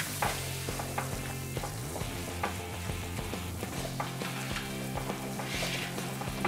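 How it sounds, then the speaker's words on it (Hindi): Butter and flour sizzle softly in a pan for a white sauce while being stirred continuously, a steady low frying hiss with light scraping. "अभी हम इसे अच्छे से भून लेंगे और इसका कलर नहीं चेंज होना चाहिए"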